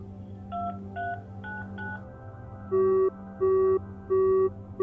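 Telephone keypad tones from a payphone in the video game The Final Station: four quick short beeps, then three longer, louder steady tones, clear and alone with no talk.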